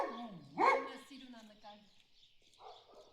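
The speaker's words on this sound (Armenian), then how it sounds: "Հա, Շունիկ ջան, իմ վրա ես հաչում։" A small dog barks once sharply near a rural mountain village garden in the morning, while someone talks over and around it.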